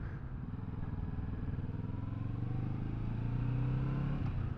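A Kawasaki Vulcan S motorcycle rumbles steadily close by, its engine note swelling slightly louder toward the end with a faint rising pitch, no talking over it.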